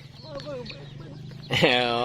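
Free-range chickens roaming outdoors cluck and squawk in a steady, close chorus, with one louder burst of calling near the end over background ambience.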